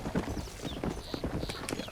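War horse hooves in the video game Red Dead Redemption Undead Nightmare, a quick run of close clip-clop hoofbeats with faint game sounds, brief and fairly loud.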